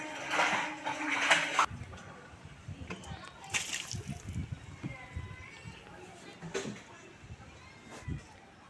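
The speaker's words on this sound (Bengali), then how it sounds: "তো আমরা তো ভেতরে ঢুকে পরিষ্কার করতে পারবো না, তাই ওই মপ দিয়ে আর কি পরিষ্কার করছে এই বোন।" A mop sloshing and splashing dirty water inside a tank, a burst of wet splatter at the start followed by intermittent sloshes and scrubbing, with a voice talking throughout.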